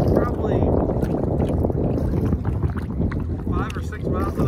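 Small battery-powered Bixby electric motor pushing a canoe upstream against current and wind on a lake in Voyageurs National Park, a steady low drone and water wash under heavy wind buffeting, with people talking over it.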